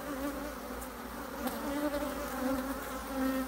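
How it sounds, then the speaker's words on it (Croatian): Honeybees hum steadily at an open hive near sunset, a continuous close buzzing drone with a few individual bees passing louder. "polako zalazi sunce pa su malo pčele one nervoznije"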